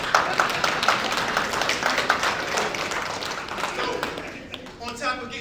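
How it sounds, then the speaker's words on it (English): Audience clapping and applauding at a talk, dense continuous applause that gradually thins out and fades, with voices underneath. "Clap it up for all the people who got detention."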